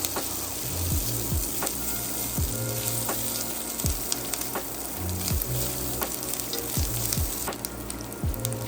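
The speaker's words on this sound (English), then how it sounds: "Follow with the ginger and garlic and quickly stir together with the onions and peppers" Ginger and garlic stir-fry with onions and peppers in a hot pan for a beef chow mein, a steady loud sizzle broken by repeated scraping strokes of a utensil against the pan.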